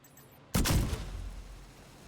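A Chem Launcher fires at an enemy in the game The Division 2: one sudden heavy thump after a short quiet moment, followed by a rumbling burst that slowly fades out.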